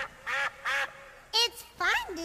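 Voices imitate duck quacks, four drawn-out nasal "quack" calls in an uneven rhythm, close and loud with short pauses between them.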